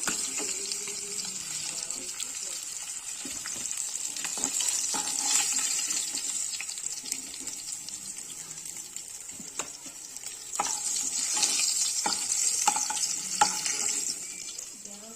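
Hilsa fish pieces fry in hot oil, a sustained close sizzle and hiss with intermittent stirring and spatula knocks, briefly swelling louder near the end, with no talking.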